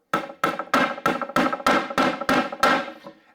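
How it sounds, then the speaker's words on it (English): A hammer driving a nail into wood, nine sharp ringing strikes in a steady, even rhythm, close and clear with no talk. "I hammer that nail all the way into the wood"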